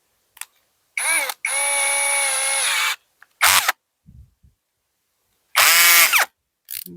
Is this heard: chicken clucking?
no